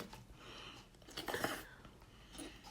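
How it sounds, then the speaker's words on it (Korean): Faint, close-up wet chewing and slurping of Chinese instant noodles, soft crunchy bites and mouth noises against a quiet background. "면치기 씹는 소리"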